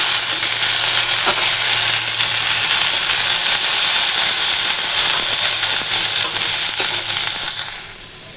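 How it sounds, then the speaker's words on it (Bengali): Potatoes fry in a pan with a loud, steady sizzling hiss that stays close and constant for several seconds before easing off at the end, with no talking. "আলু ভাজা বসিয়েছি"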